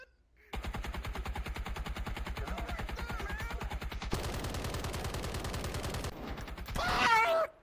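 Sustained rapid automatic gunfire aimed at players in a shooter game, loud and continuous bursts with a short pause and change in tone midway, ending with a brief distorted noise.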